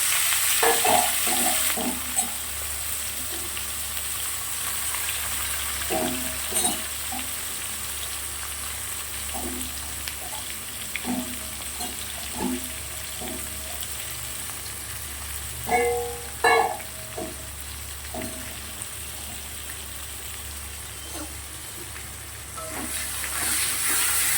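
Onion and tomato with whole spices, black pepper among them, frying in a pan, giving a steady low sizzle with intermittent clinks and stirring scrapes over about twenty-four seconds, with no talking.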